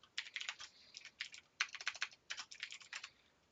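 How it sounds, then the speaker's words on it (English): Rapid typing on a computer keyboard, a steady patter of quick key clicks in short bursts with brief pauses, close and fairly quiet, without any talking. "So now we're going to type all of our stuff in here"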